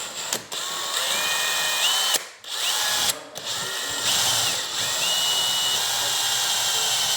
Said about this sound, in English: I need to pre-drill a pilot hole to go through the outside wall